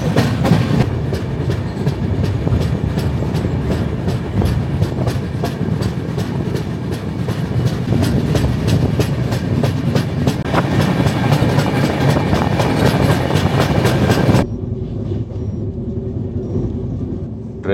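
A passenger train runs on rails on the way to Takdah, loud and near, with rapid regular clickety-clack beats and a deep rumble that cut off abruptly into quieter cabin noise near the end.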